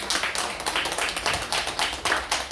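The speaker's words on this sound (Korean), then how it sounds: "우리 여전도 헌신 예배를 축하하는 의미로 하여튼 크게 박수 한번 칩시다." Church congregation clapping loudly together at a women's missionary society dedication worship service, a dense steady burst of many hands filling the room with no talk.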